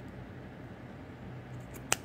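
Scissors give a single quick snip cutting off excess bracelet craft material, a short sharp click near the end of a quiet room.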